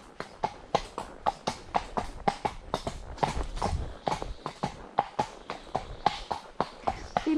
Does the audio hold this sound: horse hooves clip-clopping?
yes